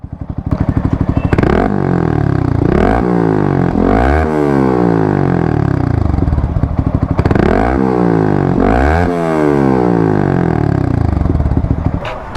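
A Yamaha R15 v3 motorcycle fitted with an AHM Pro Racing exhaust starts up close by, then idles loudly with several sharp throttle blips that rise and fall in pitch.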